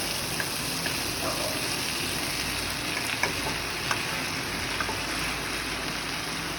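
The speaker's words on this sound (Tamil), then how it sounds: "இப்போ இந்த நூடுல்ஸும் வெஜ்ஜீஸும் நல்லா மிக்ஸ் பண்ணணும்" Boiled noodles and vegetables for veg Hakka noodles are tossed in a hot pan, giving a loud, dense, unbroken sizzle with scattered light ticks of a spatula, and no talking.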